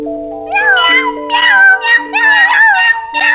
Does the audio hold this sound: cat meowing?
yes